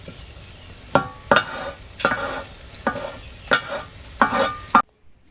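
Hechi greens (hechi shak) are stirred in a pan as they fry, with scraping strokes against the metal and light sizzling close by. No one speaks, and the sound stops abruptly near the end.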